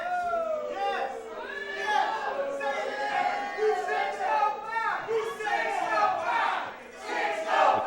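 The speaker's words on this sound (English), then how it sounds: "The crowd very pro 605 here for Chris Nelms" Wrestling crowd in an indoor arena cheers and chants for a wrestler, a loud swell of many voices rising and falling in waves throughout.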